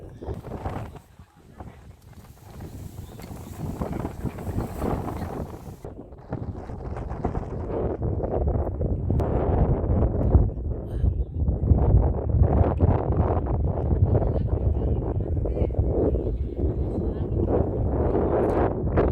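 Strong wind on a mountaintop at Montserrat Monastery near Barcelona, Spain, roars and buffets the microphone, the rumbling gusts building and staying heavy through most of the recording.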